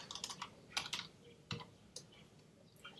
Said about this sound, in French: Il nous demande le mot de passe, on met le mot de passe, on le tape.